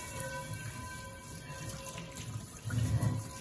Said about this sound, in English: Give it another little rinse.